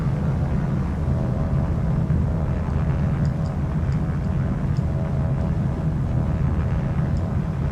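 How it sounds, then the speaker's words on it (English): Steady droning prop plane engine from the War on the Sea naval combat game, a continuous low rumble filling the whole stretch with faint higher tones drifting above, no voices. "Something about prop planes I just love"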